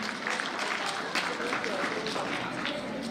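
Hearty applause rises from the crowd at a government school Republic Day honours ceremony, a steady, moderately distant wash of clapping with voices mixed in.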